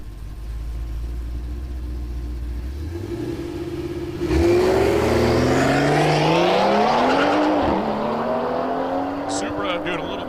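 Drag racing cars, a Supra and a Nova, on a street-style track: a low idling rumble, then loud engines launch and rev hard with rising gear-change sweeps and shifts, roaring continuously nearby until the end.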